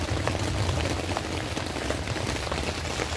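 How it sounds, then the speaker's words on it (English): Steady rain patters continuously at a campsite, a dense hiss of drops on surfaces with no pauses, close and even throughout. "It's raining. It's so beautiful."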